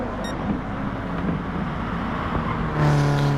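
Race car engine note passing in a sim racing game at Autopolis, a loud steady drone through most of the moment that rises in pitch and strength near the end as the car comes close.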